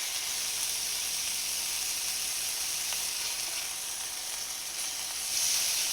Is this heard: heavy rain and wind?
no